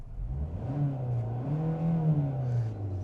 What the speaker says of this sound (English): It just has that typical 4-cylinder drone when you really get it going.